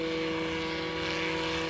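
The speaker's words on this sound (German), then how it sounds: "Zu welcher Präzision der Hubschrauber fähig ist, der jetzt ohne Fernsteuerung, also völlig autonom fliegt, demonstriert dieses Experiment." An autonomous remote-controlled research helicopter from 1998 flying without a remote control produces a steady, unbroken engine-and-rotor drone, dense and constant throughout with no voices.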